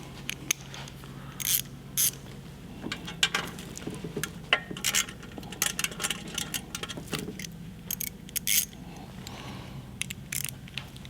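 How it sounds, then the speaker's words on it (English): A ratchet wrench tightening the muffler bolts on a Harley-Davidson M8 bagger, with quick bursts of clicking ratchet strokes in an irregular rhythm, close and clear, with no talking. "We're going to tighten up our muffler bolts."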